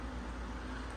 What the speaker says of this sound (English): you might hear the wind machine in the background